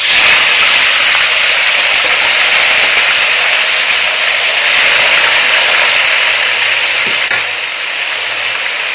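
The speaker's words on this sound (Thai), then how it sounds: "ตั้งกระทะใส่น้ำมัน" Loud, steady hissing sizzle of striped catfish pieces frying in hot oil in a pan, continuous and close, with no talking.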